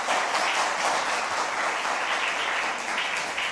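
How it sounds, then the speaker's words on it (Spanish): A church congregation applauds during a sermon, a dense, steady wash of many hands clapping that fills the room at even loudness throughout. "Dale un aplauso al Señor, por favor"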